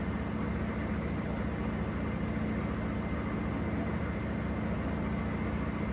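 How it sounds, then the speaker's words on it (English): A dense, steady mechanical whir and low hum of a Whirlpool Cabrio Platinum washing machine on a fast spin cycle, constant and unbroken, with no talking. "right here at the 5-minute mark, we're spinning super fast."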